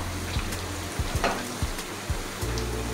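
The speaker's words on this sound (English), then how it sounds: "I'll stir fry it for about 3 minutes before I will go in with the tomato paste." Chopped white onions stir frying in a pan, a steady close sizzle with spoon scrapes and light knocks against the pan at irregular intervals.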